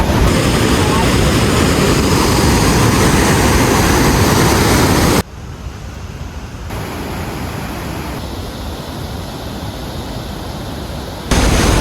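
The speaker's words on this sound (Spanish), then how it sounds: "Tremendo cómo se escucha acá el ruido de la cascada." Waterfall near a hanging bridge in Baños, Ecuador, a loud continuous broadband roar that drops abruptly partway through, continues at a lower level, then surges back near the end.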